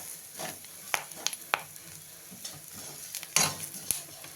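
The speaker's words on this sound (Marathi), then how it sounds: "आता याच्यात टाकू थोडा आपण मसाला, घरचा केलेला मसाला." Homemade masala with curry leaves and coriander frying in oil for katachi amti, a soft steady sizzle with intermittent scraping stirs and clinks of a spoon against the pan.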